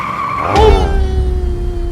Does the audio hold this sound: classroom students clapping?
no